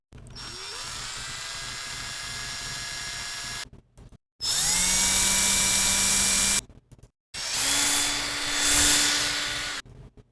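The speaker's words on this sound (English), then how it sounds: "The next bit of sound is just a drill with, different takes" A power drill whines in three separate bursts, each steady and loud, with short silences between them.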